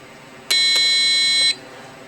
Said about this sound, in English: when you push the button, the LED lights up, buzzer goes off, and it reads process 1.